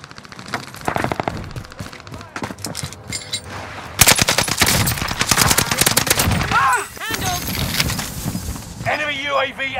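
Bursts of automatic machine-gun fire in a battle-royale style shooter video game, sharp rapid volleys repeating loudly through the clip over game effects, with voices talking intermittently.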